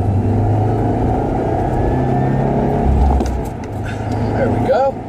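A 2016 Subaru WRX Limited accelerating after a shift into third, a loud steady engine drone heard from inside the car, rising then easing slightly, with a voice speaking over it.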